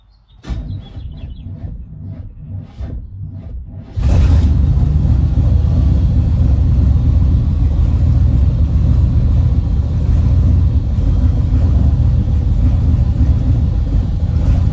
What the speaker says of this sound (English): let's see if we can't get this thing to crank, maybe fire up